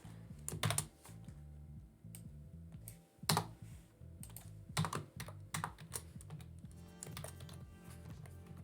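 Computer keyboard keys are typed in short, irregular bursts while entering a math expression in an engineering computing script, faint and close with brief pauses between clicks, over a low steady hum.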